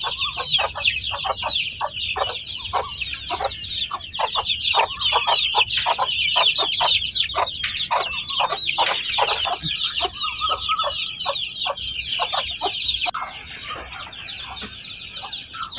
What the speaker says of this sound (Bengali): এটা আমাদের দেশি জাতীয় মুরগি